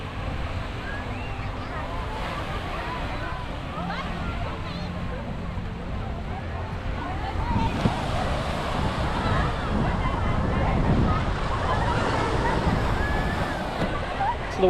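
Gentle ocean waves wash onto the beach at Nha Trang, Vietnam, at sunset, a continuous soft surf and slosh with wind noise on the microphone, swelling a little midway, while people talk in the background.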